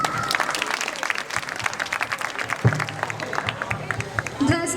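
Loud, sustained audience applause rings out at an amateur Ramleela staging in a residential complex, many hands clapping close together with a few louder individual claps poking through.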